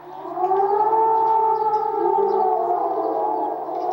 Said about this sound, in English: the moment of war was heralded by the chilling sound of air raid sirens